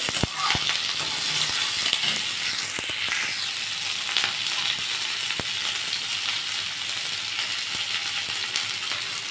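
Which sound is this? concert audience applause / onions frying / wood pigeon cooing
onions frying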